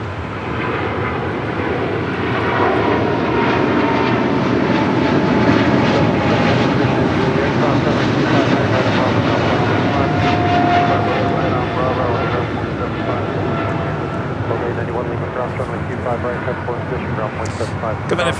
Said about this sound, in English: Coming in from Nashville, Tennessee, that is Delta Airlines flight 891 and the 737-900ER.